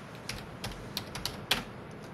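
Computer keyboard keys tapped in short, separate strokes during stock-take software data entry, a handful of close clicks spaced irregularly over a quiet room background.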